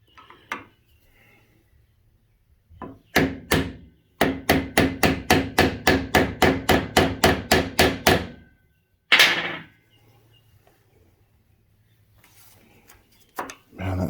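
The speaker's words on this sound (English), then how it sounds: "going to put it in the vise and give it a tap because the head of that screw is pretty rounded" A hammer taps on a rounded screw head held in a vise, first a few single blows, then a fast steady run of about a dozen sharp metallic knocks, followed by a heavier scraping hit and quiet workshop ambience.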